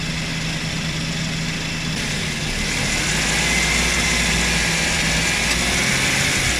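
A Suzuki Every Wagon DA64W idles with a steady, close engine hum while its aircon compressor clutch disengages and re-engages, and the tone of the running engine shifts noticeably partway through.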